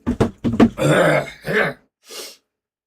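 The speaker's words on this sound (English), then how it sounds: "Let me have my coughing fit." Several harsh throat-clearing coughs come in quick bursts, close and loud, followed by a longer rasping cough and a fainter final hack after a pause.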